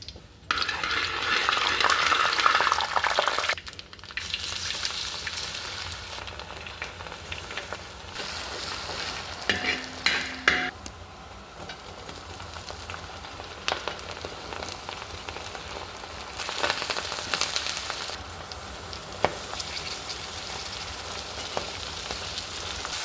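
Mustard seeds and fenugreek frying in a hot pan: a dense, rain-like crackle and sizzle lasting throughout, with spatula scrapes and a brief metallic clink of the pan midway.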